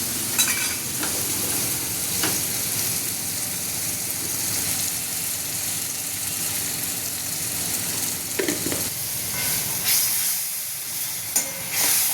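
Spiced matki usal being stirred and fried in oil, with a steady close sizzle and scraping stirs running throughout, no talking.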